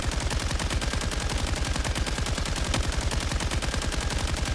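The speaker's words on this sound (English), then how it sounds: "Machine gun!" Rapid machine gun fire from a Fatui sentry bot in Genshin Impact, a loud, continuous stream of fast shots that stays dense and unbroken throughout.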